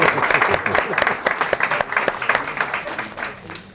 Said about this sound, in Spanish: Un fuerte aplauso para todos ustedes.